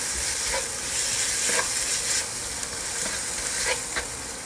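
A tahini, grated garlic and yogurt mixture is stirred in a pan for shawarma, giving a steady scraping, sizzling hiss with soft spoon strokes repeating throughout, close and continuous, with no talk.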